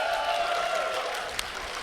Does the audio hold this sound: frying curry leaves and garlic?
no